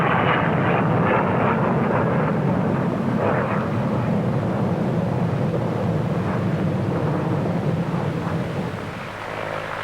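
A huge Victor bomber performs aerobatics at the Farnborough airshow, its engines a loud, continuous, broad roar that holds steady and eases slightly toward the end.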